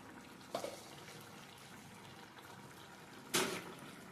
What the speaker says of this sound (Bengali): এটাকে নাড়াচাড়া করে সামান্য ফুটিয়ে নেব।